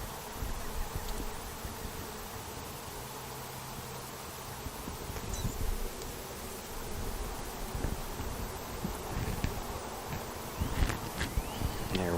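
Honeybees buzz at an opened backyard hive while it is smoked. A dense, steady hum of many insects fills the scene up close, with occasional rustling and light handling knocks toward the end.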